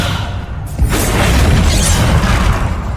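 A heavy, booming impact with a crashing, shattering burst from the Descendo spell in Hogwarts Legacy, loud and sustained for a couple of seconds after a brief lead-in.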